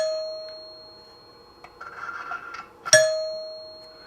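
A 1955 NuTone K14 recessed two-note door chime with resonators rings two tones close by, a sustained note, then a soft rubbing, then a sharp strike with a bright ringing tone that lingers.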